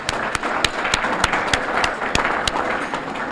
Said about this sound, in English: let's have a round of applause for Fantasia